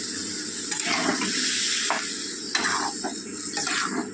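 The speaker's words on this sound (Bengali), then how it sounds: "এবার দিয়ে দেবো জল একটু জলটা বেশি করেই দেবেন" Water poured into a cooking pot of Bengali sukto after the vegetables are sautéed, a steady splashing pour with a few brief pauses and surges, close and moderately loud with no talking.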